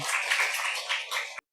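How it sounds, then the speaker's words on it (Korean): A church congregation in Seoul claps together during a morning worship service, a dense burst of applause lasting barely a second and a half before cutting off abruptly. "내 마음 지켜줄 하나님께 박수 한번 올려드립니다."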